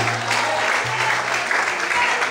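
Church congregation applauding together after a pastor's call to glorify the Lord, a steady broadband clapping that fills the whole stretch, with a low held tone, probably organ or keyboard, underneath.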